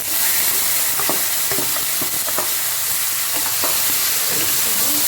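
Marinated duck meat sizzles loudly in a hot pan while a spoon scrapes and stirs it, the steady frying hiss broken by clattering knocks.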